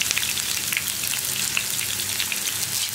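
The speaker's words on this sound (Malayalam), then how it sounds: "നമുക്ക് ഇതിലേക്ക് ഉള്ളി ചേർക്കാം." Shallots fry in hot oil with mustard seeds for sambar, a bright, dense crackling sizzle that stays loud and even throughout, with scattered pops.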